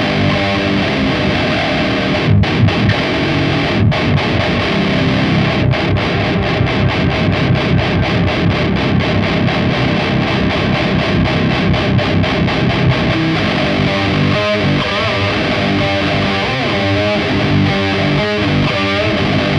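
Bass guitar played through the bass distortion setting of a Sonicake Matribox multi-effects unit, giving a loud, continuous, gritty and fuzzy tone with riffs and chugging notes and no talking.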